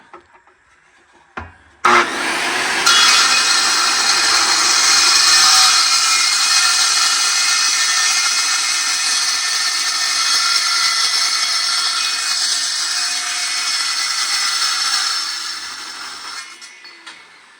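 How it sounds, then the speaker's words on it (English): A power saw cuts through a piece of metal pipe, starting abruptly after a brief knock and then holding a loud, steady high-pitched grinding whine for about fifteen seconds before stopping, heard alone without talk. "So the saw left some sharp burrs on it."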